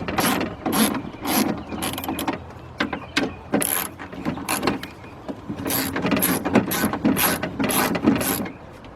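Rapid bursts of ratchet clicking at close range as bolts are loosened on a 2002 Jeep Grand Cherokee door during window regulator replacement, short runs of pawl ticks separated by brief pauses.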